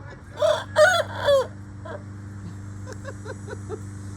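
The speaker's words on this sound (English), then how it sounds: "That's the funniest crow I've ever heard." A rooster crows in three loud, close, uneven syllables, an oddly broken crow, followed by soft clucks from nearby hens over a steady low hum.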